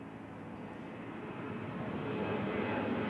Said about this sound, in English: So we just had United 2462 land here.